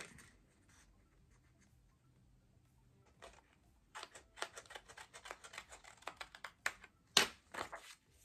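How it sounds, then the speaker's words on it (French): Paper being trimmed with scissors while making an Easter card, a quiet stretch giving way to a run of crisp snips and rustles, close and alone with no talking. "Hop, je vais recouper un petit peu en bas."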